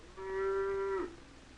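A steer, one of the beef cattle at a country fair, gives a single sustained moo of about a second, clear and fairly close, that fades into quiet background murmur.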